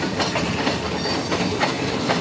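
Freight train hauling coil cars rolls steadily past, wheels giving a continuous rumbling clickety-clack with periodic rhythmic knocks over rail joints, close and fairly loud, no voices.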